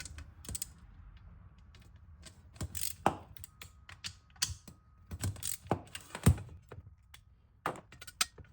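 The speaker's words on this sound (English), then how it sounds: "Then I remove the two nuts holding the motor on." A bathroom vent fan motor has its two mounting nuts removed by hand, giving scattered close, quiet metallic clicks, taps and ratcheting ticks in irregular bursts against a near-silent background.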